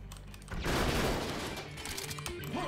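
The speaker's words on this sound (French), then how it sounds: "On va prendre juste la mitrailleuse." A machine gun fires in the Serious Sam shooter, a sustained loud burst of rapid automatic shots beginning after a short quiet lead-in and continuing with a rattling, crackling texture to the end.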